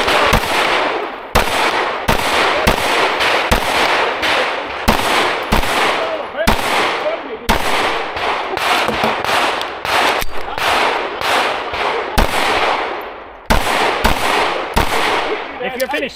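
Sharp, loud gunshots crack in rapid strings at an IDPA shooting match, some in quick bursts and others spaced out, heard close by with voices now and then between the strings.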